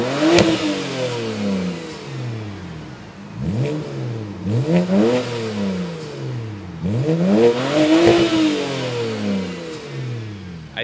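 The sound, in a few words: BMW 335i engine revving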